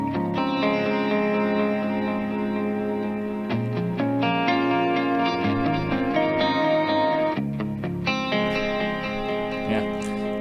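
Guitar played through deliberately odd reverb and delay effects, with sustained chords and notes smeared by echoing, chorus-like processing, steady and fairly loud, no speech.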